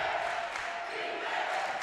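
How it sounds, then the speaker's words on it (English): Crowd at a Division II women's college basketball game in the NCAA South Region tournament, a sustained roar of cheering and yelling that swells slightly toward the end, loud and continuous from start to finish. "The crowd getting into it"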